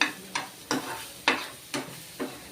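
A curry of eggs and tomato is stirred in a pan after coriander goes in, giving five separate scraping strokes at a steady, unhurried pace over a soft sizzle.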